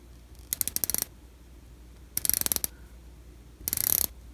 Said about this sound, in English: let's try out the bezel now, see how the action is.